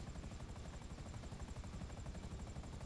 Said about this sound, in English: There's a lot of helicopter noise right now.